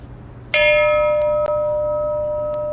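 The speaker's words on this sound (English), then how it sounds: "The toll of the ship's bell" A ship's bell tolls twice at a Pearl Harbor remembrance ceremony, each clear metallic strike followed by a long ringing decay, with a faint tap between.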